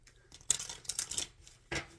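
An oracle card deck is shuffled close by, with a few quick papery riffles and slaps spread across two seconds.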